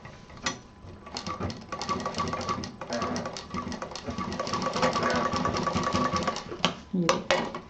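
A sewing machine stitches a zipper onto a cloth pouch with a fast, steady mechanical rattle and a brief pause partway through, close-up, while someone talks over it.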